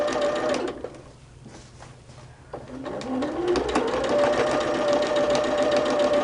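A sewing machine stitches the final seam joining two halves, running close and loud, slowing briefly and then settling into a steady, fast mechanical chatter with a rising whine.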